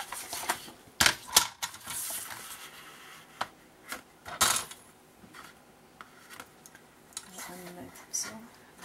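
Paper being cut for the lining of a scrapbook page in a beginner's mini album, with several sharp snips and crisp rustles close by, spaced irregularly across the span, plus quieter handling in between.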